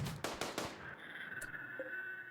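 Heavy SMG burst in RimWorld, three or four rapid sharp shots in quick succession followed by a fading ringing tail and faint ambient game sound.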